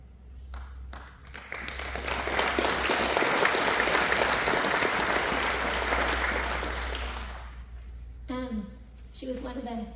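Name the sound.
audience applause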